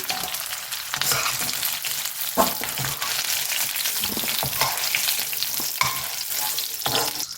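Onion and grated coconut sauté in a pan for tomato kulambu, a steady close sizzle broken by occasional spatula scrapes and knocks, with no voices.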